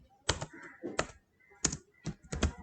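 Keys clack on a computer keyboard in a few quick, close, crisp clusters separated by short pauses, with no talking.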